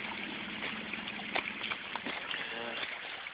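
Creek water flows steadily a few hundred yards below a waterfall in Logar Valley, a soft continuous rush with faint trickles and splashes, fairly quiet and uninterrupted.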